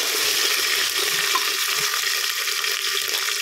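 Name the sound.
ginger garlic paste frying in oil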